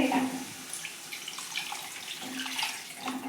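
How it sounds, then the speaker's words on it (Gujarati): Drinking water is poured into a vegetable Manchurian gravy in a pan, producing a soft, faint splashing stream that comes and goes. "હવે આપણે આમાં થોડું પાણી એડ કરીશું"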